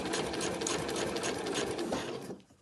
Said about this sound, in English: we're just going to stitch 1 centimetre up from the bottom edge there